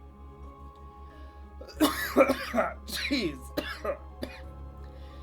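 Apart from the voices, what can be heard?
coughing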